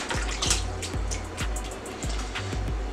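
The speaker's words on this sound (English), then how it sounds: "I'm putting this on, I can get a rewash again. Second wash off, right?" Plums and ginger rinsed under a running tap, a steady near stream of water with repeated low thumps and splashes as the fruit is handled, no talking.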